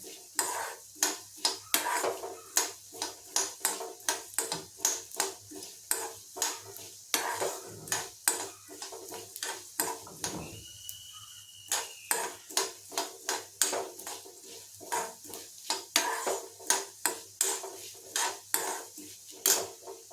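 Coriander seeds dry roasting in a pan over a medium flame, with a steady run of dry scraping stirs and light rattling against the metal, close and moderately loud, with a short pause midway.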